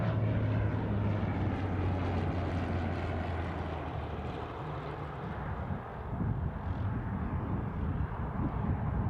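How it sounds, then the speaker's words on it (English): A small propeller aircraft flies at Newcastle International airport, giving a steady, fairly loud low drone with a broad wash of engine and wind noise that holds throughout. "Something that's a small aircraft, not an easyJet."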